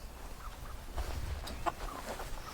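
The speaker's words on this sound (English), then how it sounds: "That's what chickens do." Chickens kept in a chicken tractor cluck in short, scattered bursts at moderate volume, with one sharper call standing out near the end over a steady outdoor background.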